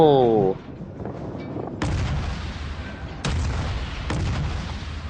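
Heavy naval guns fire in the World of Warships video game, with deep rumbling booms at intervals over a constant roar of background noise after a brief tonal sound at the start.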